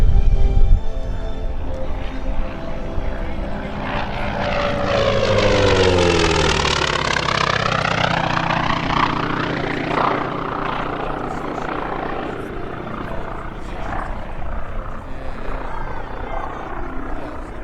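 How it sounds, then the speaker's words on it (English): Grumman FM-2 Wildcat propeller fighter making a low pass at an airshow, engine drone rising and falling with a clear Doppler sweep as it approaches and then recedes into the distance. "brings her back for another pass"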